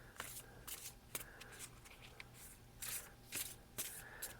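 Oracle cards shuffled by hand in a quiet room, a series of crisp riffling bursts in irregular rhythm, fairly close and moderately loud, with no talking over them.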